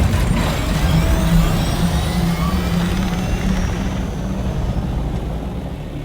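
Helicopter in a video game, a steady loud rotor and engine drone with broadband whine and low throbbing, continuous throughout and fading slightly toward the end.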